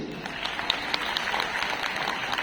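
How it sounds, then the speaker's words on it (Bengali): An audience claps in steady applause for Suman at a celebration, a dense continuous patter of many hands at moderate level without a break. "যে সুমনের জন্য হাততালি দিন"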